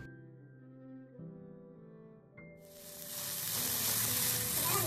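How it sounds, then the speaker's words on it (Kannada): Chopped onion frying in a pan for a giant clam sukka: a quiet stretch gives way to a bright, steady sizzle that swells loudly from about midway and keeps hissing to the end. "ನೀರುಳ್ಳಿ ಕೂಡ ಇಲ್ಲಿ ಚೆನ್ನಾಗಿ ಕೆಂಪಾಗುವವರೆಗೂ ಫ್ರೈ ಮಾಡೋಣ."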